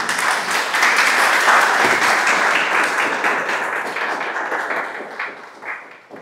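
Audience applause for Doctor Laplanche at the ZAKA gathering in Haiti, steady dense clapping that holds strong for several seconds and then gradually thins toward the end.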